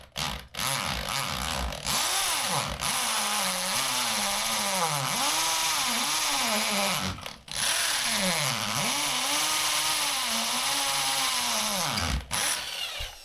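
A power drill bores out holes in a steel jack post bracket for a sagging crawlspace beam, its motor whining up and down in pitch through several close, loud bursts separated by brief pauses.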